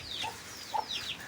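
A chicken gives a few short, close clucks and squawks in quick succession, fairly faint against a quiet background.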